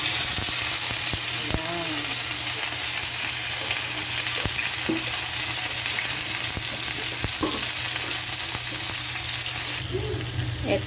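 Tapa, cured beef, frying in cooking oil gives a loud, steady crackling sizzle with occasional clicks of stirring, while a voice speaks briefly over it.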